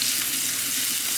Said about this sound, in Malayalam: ഇനി ഈ ചൂടായ വെളിച്ചെണ്ണയിലോട്ട് ഞാനൊരു ഹാൻഡ്ഫുള്ള് ചെറിയ ഉള്ളി ചോപ്പ് ചെയ്തത് ചേർക്കുകയാണ്.